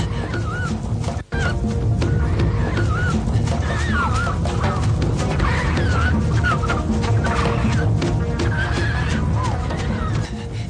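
Bird calls in a dubbed Lion King cartoon episode: repeated warbling, chirping calls that rise and fall over a dense, continuous background of music and effects.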